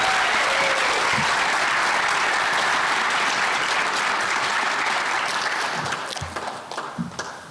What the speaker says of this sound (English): Let's give another round of applause to all these honorees.